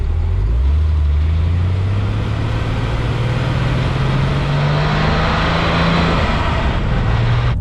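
A Porsche 993 RS Clubsport driving with a loud, raw engine drone heard from inside, rising steadily in pitch as it accelerates through the gears, with road noise throughout.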